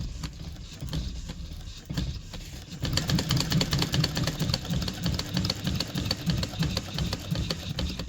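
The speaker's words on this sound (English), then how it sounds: "There's no trouble at all stitching through that." A walking foot sewing machine stitches through plywood, starting after a quieter moment with a fast, steady mechanical chatter of needle strokes close by, continuing evenly to the end with no talking.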